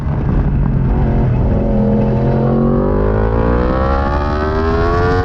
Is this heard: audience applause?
no